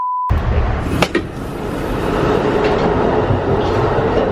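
An Amtrak Wolverine passenger train runs on the Pontiac/Detroit to Chicago line, a steady loud rolling rumble of wheels on rails with a sharp clack near the start and no voices.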